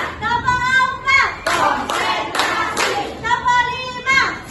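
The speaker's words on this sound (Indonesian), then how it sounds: "ibu ajar anak untuk tepuk 1, 2, 3" Children in a classroom clap their hands together on a teacher's count, a series of sharp claps spaced about half a second apart, mixed with voices chanting.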